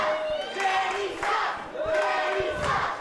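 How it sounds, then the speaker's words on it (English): A wrestling crowd chants and cheers in a frenzy, loud rhythmic waves of massed voices rising and falling in two surges, with stomping thuds underneath. "Jake Lander's got this crowd in a frenzy."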